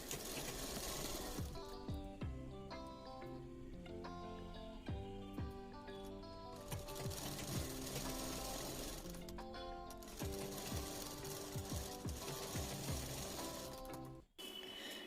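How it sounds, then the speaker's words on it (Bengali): Sewing machine stitching the shoulder seams of a baby Patiala suit, running steadily and loudly in long bursts with a brief pause near the end, with no talk. "সাইডের যেই দাগটা দেওয়া আছে সেই দাগ অনুযায়ী সেলাই দিয়ে নেব।"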